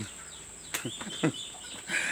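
Several short clucks from a chicken, a few bursts spaced irregularly over a steady background hiss, fairly close.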